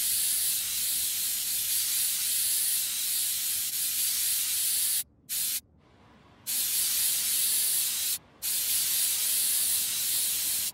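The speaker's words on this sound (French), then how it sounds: "On va prendre l'air comprimé, la bombe à air comprimée." A compressed-air spray can blasting a computer clean: a loud, steady close hiss that cuts out briefly three times before resuming, with no voices.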